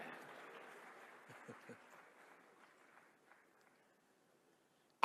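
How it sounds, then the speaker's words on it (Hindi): An audience claps at a television news channel launch event in India, a short, faint patter that swells briefly and then fades out to near silence. "हाँ, अब ताली बजी।"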